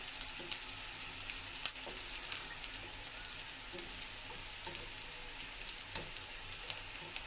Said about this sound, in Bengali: দেখুন আমি পেঁয়াজটা ভেজে নিচ্ছি।